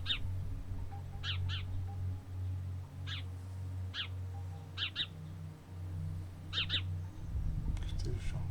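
Sparrows chirp from a balcony in short, bright bursts spaced every second or so, fairly near, over a steady low hum and faint background noise.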